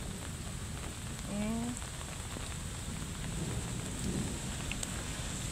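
Steady rain patters with a soft hiss, and a short rising whistle-like tone sounds briefly early on.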